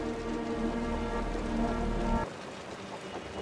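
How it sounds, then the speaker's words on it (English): Steady rain pours down in the video game Wuthering Waves, a dense, continuous hiss with low rumble that cuts off abruptly after about two seconds, leaving faint scattered drips. "The rain's getting heavier."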